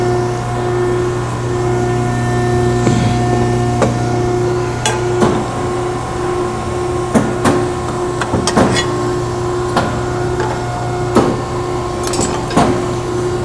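A Scotchman 5014-TM hydraulic punch and shearing machine rounds off metal corners. Its hydraulic unit hums steadily while a series of sharp metallic clunks and snaps come at uneven intervals, close by.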